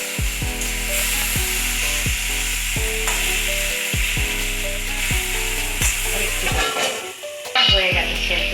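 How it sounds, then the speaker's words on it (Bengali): Tomatoes and onions frying in a pan for a rui fish kalia, a steady, hissing sizzle running underneath louder background music. "টমেটো, পেঁয়াজ সবই ভাজা হয়ে গেছে।"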